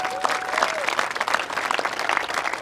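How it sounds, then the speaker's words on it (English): An audience applauds at the grand opening of a performance center, a moderately loud wash of many hands clapping, with a brief whistle near the start. "can we just get some applause for this beautiful facility?"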